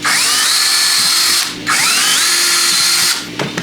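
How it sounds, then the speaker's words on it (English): A power drill whirs up to speed twice in two loud bursts, each winding up and holding a steady whine as it bores into a coconut, then stopping. "Drill 2 holes."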